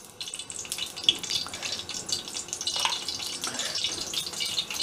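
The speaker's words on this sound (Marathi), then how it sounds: "तर आता हे तेल मी ओतून घेते।" About 50 grams of cooking oil, two ladlefuls, poured into a pan for tempering while making a large batch of dhaba-style matar paneer masala; a steady liquid trickle and splash runs throughout, close and moderately loud, with no talking.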